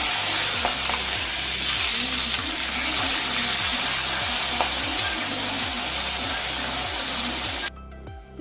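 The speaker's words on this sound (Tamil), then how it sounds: "இப்போ இதை நம்ம ஃப்ரை பண்ணி எடுத்துக்கலாம்." Masala-marinated fish for Kerala pollichathu sizzles in a hot pan, a continuous loud frying hiss with regular scraping stirs, ending abruptly near the close.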